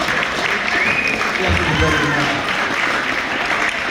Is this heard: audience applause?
yes